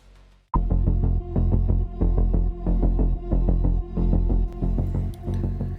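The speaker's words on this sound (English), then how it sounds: "my neighbor is running his weed whacker" A neighbor's weed whacker runs steadily in the background, a loud, continuous throbbing engine drone that starts abruptly after a brief quiet moment and pulses in regular surges, with no talking.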